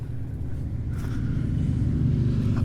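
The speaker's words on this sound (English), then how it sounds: "it's 2 motorcycles, so it sounds like a truck" Steady low engine rumble of two motorcycles rolling past outdoors at moderate distance, a continuous droning growl that builds slightly toward the end.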